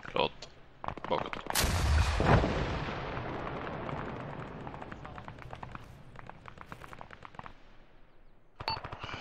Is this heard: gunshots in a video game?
yes